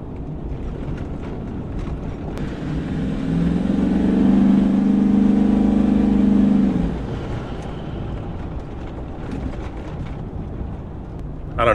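A Ford 6.4 Powerstroke diesel pickup pulls away and accelerates, its engine droning and rising to a loud, steady roar mid-way before easing back, heard from inside the cab with wind noise.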